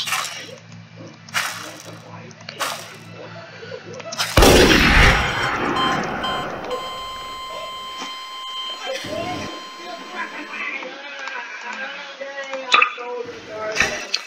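A sniper rifle fires in Garry's Mod: one sharp, loud crack with a ringing tail, followed by lighter clicks and a voice talking throughout.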